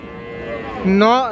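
A cow with a calf moos once in a long drawn-out call at the Raniganj cattle market in Ghoraghat, Dinajpur, rising out of a low crowd murmur near the end.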